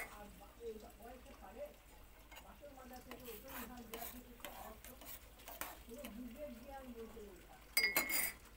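Spoon stirring tea in a cup in a home kitchen, a series of soft clinks and scrapes with faint sizzling underneath, while people talk in the background.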